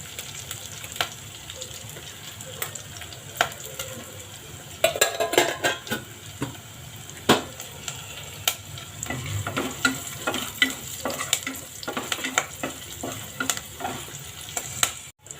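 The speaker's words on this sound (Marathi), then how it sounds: "आता हे छान परतून घेऊया." Garlic sizzles in a pan with turmeric while preparing moong dal khichdi, a soft steady frying hiss broken by frequent clinks and scrapes of a spoon stirring against the pan.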